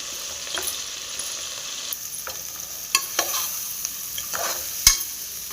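A spoon stirs chili powder and coriander powder through vegetable rice frying in a pan: a steady low sizzle under scattered scrapes and clinks, close and fairly quiet.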